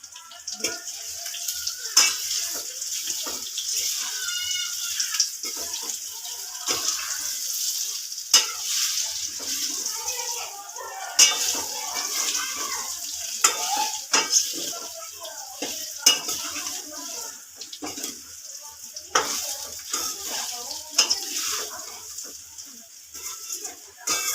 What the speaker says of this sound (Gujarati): હવે આપણે એકદમ બધું મિક્સ કરી લઈશું